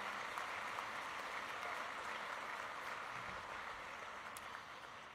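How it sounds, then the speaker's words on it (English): An audience at a club champion address claps in sustained applause, a dense even patter that fades gradually over a few seconds. "I'm sure the audience will give a round of applause to acknowledge that as well"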